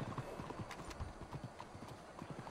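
Horse hooves clip-clop in a quick, steady rhythm in the video game Red Dead Redemption 2, fairly faint and with no one talking.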